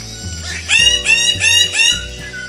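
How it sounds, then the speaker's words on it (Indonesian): A bird of paradise gives a series of four loud, harsh, repeated calls in quick succession, close by, with no talking. "suara tersebut adalah suara burung cendrawasih"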